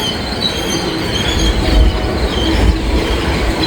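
A train crosses an old viaduct bridge over a river with creaky old bearings, a loud continuous rumble of rolling wagons with metallic wheel squeal and faint clickety-clack, steady and close throughout.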